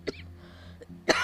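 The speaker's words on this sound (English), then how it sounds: "Sorry, getting over a cough." A single person coughs: a short sharp cough, a brief pause with a faint throat sound, then a second harsher cough, close to the microphone in a quiet room, with no talk.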